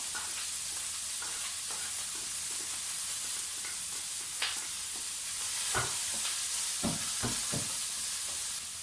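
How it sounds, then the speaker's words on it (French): Onions sizzle in a teaspoon of coconut oil in a pan, a close, continuous hiss broken by a few scraping stirs toward the end. "Une cuillère à café d'huile de coco. Après, j'incorpore les oignons."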